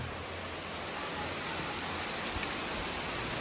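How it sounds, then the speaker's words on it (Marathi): Dense, steady wash of rainfall, even and unbroken, heard from a little distance with no voices. "आज खूपच पाऊस आहे बाहेर"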